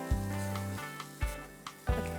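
Chicken kheema sizzles in a pan as garam masala, cumin and other spices are stirred in, a steady frying hiss broken by a few soft scraping strokes of the spoon.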